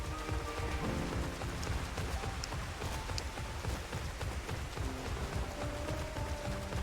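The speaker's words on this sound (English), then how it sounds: "It's really raining cats and dogs out here." Heavy rain pours steadily in Final Fantasy XIV, a dense, even hiss of drops close by with a low rumble underneath, unbroken and without voices.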